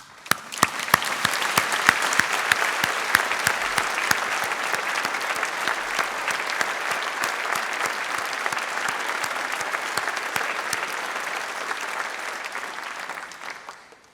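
Long, full applause from a university graduation ceremony crowd honoring graduates, dense and steady for over ten seconds with sharp individual claps at the start, then tapering off at the end.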